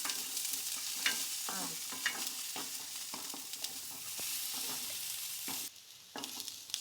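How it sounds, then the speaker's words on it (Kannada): Ridge gourd and its peel fry and sizzle in a pan, with a steady close crackle broken by repeated scraping stirs of a spatula. "ಎಲ್ಲನೂ ಒಂದ್ಸಲ ಚೆನ್ನಾಗಿ ಫ್ರೈ ಆಗಲಿ ಫ್ರೆಂಡ್ಸ್ ಹೀರೆಕಾಯಿ ಇದೆಲ್ಲ ಒಂಚೂರು ಫ್ರೈ ಆದ ನಂತರ"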